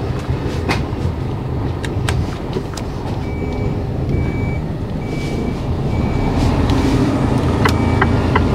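A delivery van reversing along a street in Wakefield, its reversing alarm beeping steadily and evenly over loud engine rumble and passing traffic, with occasional sharp knocks and clicks.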